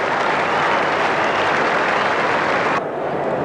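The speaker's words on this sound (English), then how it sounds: "applause for Richard Hadley as he goes back towards the pavilion area." A large cricket crowd at Adelaide Oval applauds Richard Hadlee as he walks off toward the pavilion, a dense, loud and steady wash of clapping that cuts off sharply near the end.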